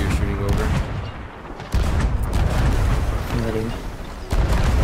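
Cannon fire from ships in Sea of Thieves, with heavy booms and ongoing battle noise throughout, sharp blasts near the start and again near the end, mixed with voices talking over the action.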